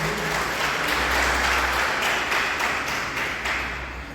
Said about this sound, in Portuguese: vamos aplaudir o Senhor Jesus pela palavra de Deus.